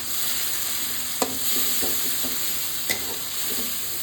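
Chopped pointed gourd and vegetables cooking with tomato puree in a pan give a soft, steady sizzle, broken by two sharp utensil scrapes against the pan.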